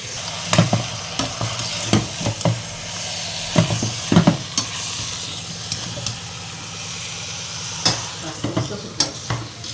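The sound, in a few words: mutton frying in a pan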